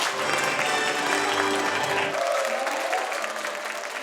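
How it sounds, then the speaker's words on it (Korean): Audience applause at a 20th-anniversary Foster Family Day ceremony, a dense steady wash of many hands clapping throughout, slightly thinning toward the end. "제20주년 가정 위탁의 날 기념식을 여러분의 힘찬 박수로 시작하겠습니다"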